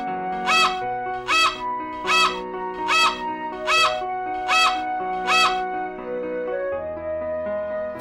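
A flamingo call from a kids' zoo animal learning game sounds as seven loud, evenly spaced, harsh honking squawks, each short and nasal, over a soft sustained musical tone.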